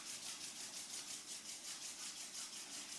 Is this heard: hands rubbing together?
yes